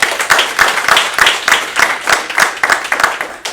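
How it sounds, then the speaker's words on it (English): A debate audience at a civil disobedience event gives a round of applause, heard as loose, rhythmic clapping from a small crowd, fairly close and loud, with no voices over it. "I want to give them another round of applause."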